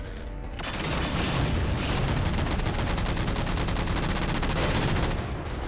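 A battle mech in Halo 4 fires multiple missiles in a sustained, loud barrage of rapid booming bursts and thuds that rolls on for several seconds before easing off.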